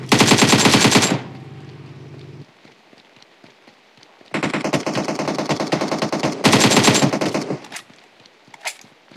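Rapid gunfire in PUBG Mobile, including Kar98 rifle shots, heard as two loud bursts with gaps of quieter patter between them and a faint lone pop near the end.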